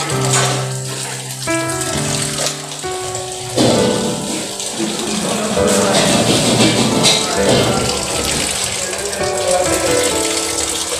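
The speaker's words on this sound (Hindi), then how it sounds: "इसमें ठंडा पानी डाल के ठंडा करेंगे" Cold water gushes into a pot to cool freshly made paneer for a restaurant-style palak paneer, a loud, close, continuous pour that shifts in tone as the vessel fills, with faint talk in the background.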